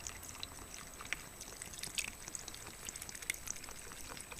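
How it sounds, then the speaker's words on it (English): Fresh regular water is poured into an HHO cell with aluminum plates, making a faint, soft trickle and scattered small splashes and drips against quiet background noise. "let's put in fresh water"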